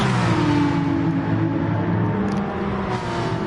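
Race car engine in a PS4 racing game, revving loud and close as it accelerates through a right-hand corner from first gear into second, the pitch rising steadily.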